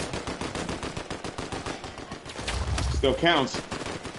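Fortnite gunfire rattles in rapid, rhythmic bursts like a machine gun, loud and steady through most of the moment, while a player briefly speaks over it near the end.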